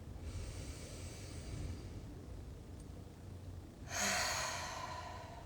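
A slow breathing exercise: a long, soft, airy inhale followed by a louder, breathy exhale, quiet and close with no other sounds.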